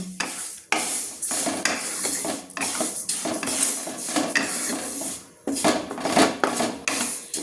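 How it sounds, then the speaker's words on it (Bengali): Sonamoog dal (250 g) is dry-roasted in a wok on a gas stove, with repeated scraping and clattering of a spatula against the pan in irregular bursts over a light sizzle, close and loud. "প্রথমে আমি সোনামুগের ডালটাকে আমি ভেজে নিচ্ছি"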